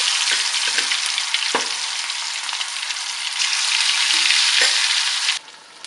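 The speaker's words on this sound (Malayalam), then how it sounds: "ചൂടായ എണ്ണയിലോട്ട് ചിക്കൻ ഇട്ട് ഫ്രൈ ചെയ്തെടുക്കാം" Chicken fries in hot oil in an iron pan with a loud, continuous sizzle, broken by a few scraping stirs, before the sound drops off sharply near the end.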